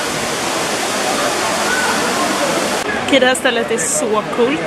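An indoor waterfall in a park in Singapore pours in a steady, loud, broadband roar that fills the space; partway through, someone talks over the rushing water.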